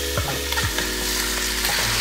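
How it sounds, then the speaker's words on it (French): Chicken pieces frying in hot oil in a pan for a mafé, a steady loud sizzle broken by a few stirring scrapes and clanks, with no speech. "Donc là, je vais mettre le poulet pour qu'il cuit un peu."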